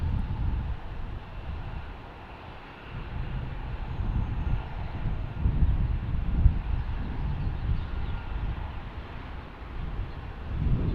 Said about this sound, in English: It's like the last two of the F-35s are leaving the taxi,